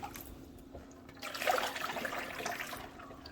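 Water pouring into a pot to cook spinach, a steady splashing flow that swells and then keeps running, close by with no talk.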